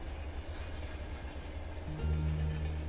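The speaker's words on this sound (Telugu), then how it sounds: "గురువారం రాత్రి 2 గంటలకి స్పెషల్ ట్రైన్ వైజాగ్ రామేశ్వరం వెళ్తుంది." A special train bound from Vizag to Rameswaram rumbles past at night, a low, steady, rather faint drone that swells slightly toward the end.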